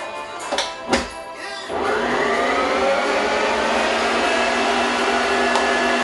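Electric mixer whisking cake mixture, a couple of clicks and knocks before the motor starts, then a loud, steady whirring drone that holds to the end.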